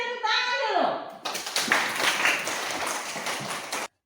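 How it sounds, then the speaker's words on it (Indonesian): A classroom of children claps for a classmate, brisk and fairly close. A voice rises at the start, then the applause runs steady for a few seconds before stopping abruptly. "Ya, kita berikan tepuk tangan dulu."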